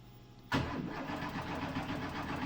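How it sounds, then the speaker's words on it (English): A car engine cranks and catches suddenly, then settles into a steady, fairly loud idle close by; the motor is a custom-built, turnkey-reliable engine. "Start the car."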